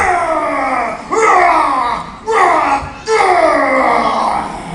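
A voice imitates whooping cough with three rising, drawn-out whooping breaths in a row, loud and close.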